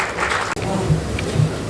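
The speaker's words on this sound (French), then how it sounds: "Vos applaudissements, s'il vous plaît." An audience at a press freedom day media awards ceremony applauds a prize winner, a spread of clapping that carries on under a speaking voice.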